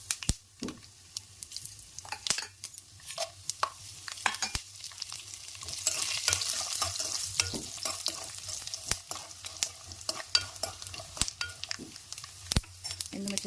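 Tamarind leaf rice ingredients frying in a pan, a steady soft sizzle with frequent scraping stirs and light taps of a spoon against the pan, close and moderately quiet throughout.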